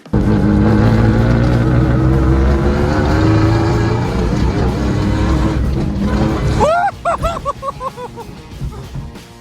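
A lifted Toyota Tacoma built for rock crawling and pre-running drives off-road with a loud, steady engine drone, then rattling and clattering over rough terrain with squealing and bumping sounds near the end.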